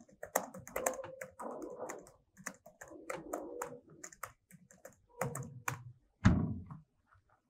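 Bursts of typing on a computer keyboard as a prompt is entered, clusters of close, quiet key clicks separated by short pauses, ending in one heavier thunk like a final key press.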